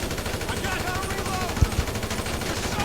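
Rapid bursts of GTA V police gunfire crackle faintly under a busy background, with a couple of sharper low thumps midway.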